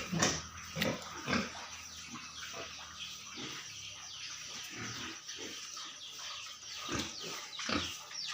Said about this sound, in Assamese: ইয়ৰ্কশ্বায়াৰ চেউৰী গাহৰি আছে এইকেইজনী